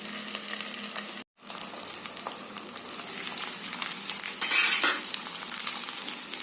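Continuous crackling sizzle of chicken curry with onion, oil, spices and potatoes frying in a pan, with occasional stirring scrapes and a brief cut to silence before a louder burst.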